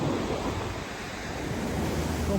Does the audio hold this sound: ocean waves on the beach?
yes